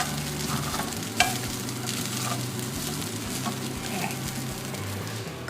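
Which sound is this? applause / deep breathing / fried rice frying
fried rice frying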